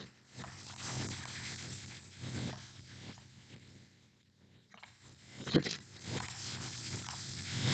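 A deck of tarot cards being shuffled, producing soft rustling, papery bursts that swell and fade in uneven waves, with one sharper snap near the end and no speech.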